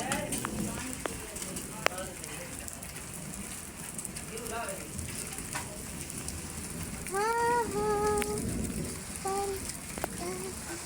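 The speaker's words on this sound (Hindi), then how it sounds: "दौसा में बारिश हो रही है" Rain falls in Dausa, India, after a long hot spell, making a continuous soft hiss with scattered drops. Voices talk and call out intermittently over it, nearby and fairly loud.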